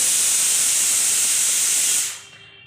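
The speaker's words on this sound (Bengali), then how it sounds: "ডালের সিটি পড়লো ডাল সিদ্ধ হওয়ার জন্য" A pressure cooker whistle venting steam while lentils boil for dal, a loud, sustained high hiss that holds steadily for two seconds and then abruptly cuts off.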